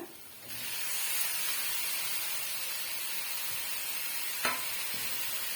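Fried okra sautéing in masala over a medium flame, a steady broadband sizzle and hiss running throughout, close and fairly loud, with one brief sharper scrape near the end.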